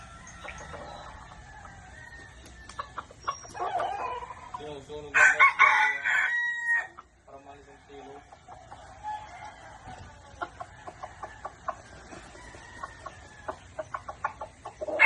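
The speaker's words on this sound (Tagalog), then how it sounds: "Napakaganda ng tilaok ng isang labuyong ito" A wild red junglefowl rooster crows outdoors, one loud crow in the middle followed by softer clucks and bird calls scattered around it, fairly close and otherwise quiet.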